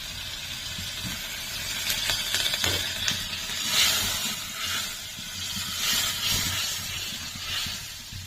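A little water poured from a bowl into frying spice masala for a shol fish curry sets off a continuous hissing sizzle in the pan, rising and falling slightly but never stopping.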